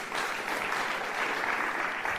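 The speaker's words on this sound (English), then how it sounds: "Let's clap for them at the seat." An audience applauds at an inaugural graduation ceremony at Ufungamano House in Nairobi. The clapping is dense, steady and continuous, with many hands sounding together throughout and no pauses.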